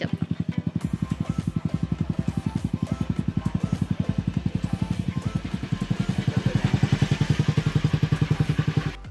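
A motorcycle engine idles close by with a rapid, even putter that thickens slightly toward the end.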